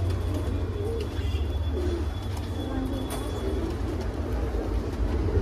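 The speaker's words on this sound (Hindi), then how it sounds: "खतंग कबूतर ये है, फुल हाई फ्लास, फुल उड़ने वाले कबूतर है भाई, मेरठ की मशहूर नस्ल है।" Khatang pigeons, a high-flying Meerut breed, coo softly in low murmurs. The cooing is partly buried under steady rumbling background noise.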